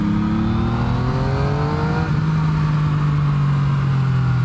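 A 2019 Yamaha MT-09 motorcycle engine revs loud and close, its pitch sweeping up through the gears in a strong, steady drone with no talk over it.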